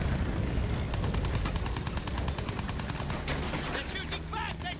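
Steady distant gunfire rattles through a Battlefield 1 battle, with repeated shots in quick rhythm under a constant loud rumble of battle noise and brief tones of voice.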